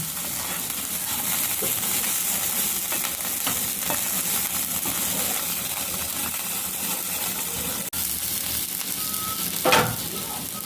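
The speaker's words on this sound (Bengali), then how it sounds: "এবার ভালো করে আমি মশলাটা দিয়ে কষে নেবো" Masala of spices sizzling steadily in a hot pan while being stir-fried for muri ghonto, with occasional spatula scrapes and one louder stir near the end, and no voices.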